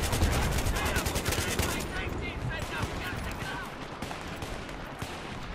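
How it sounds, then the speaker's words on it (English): Dense rapid gunfire in Battlefield 3 online multiplayer, loud automatic bursts crackling continuously with overlapping shots and battle noise, while a player talks over the action. "I'm suppressing him with these shots that I'm taking right now."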